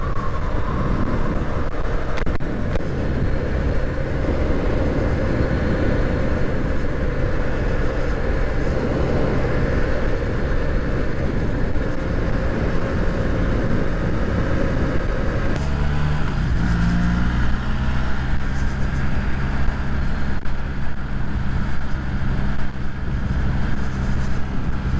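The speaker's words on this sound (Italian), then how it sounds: "Intanto scaldiamo un po' la moto." Benelli motorcycle engine idling while warming up outdoors, a steady, loud low rumble throughout with wind buffeting the microphone, the tone shifting slightly about two-thirds through.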